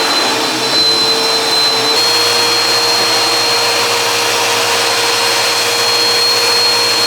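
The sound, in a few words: vacuum cleaner vacuuming glass shards from carpet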